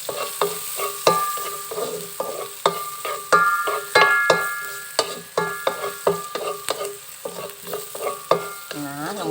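Garlic and shallots fry in a pan with a steady sizzle, while a utensil stirs them in frequent, irregular scrapes and clinks, close and fairly loud.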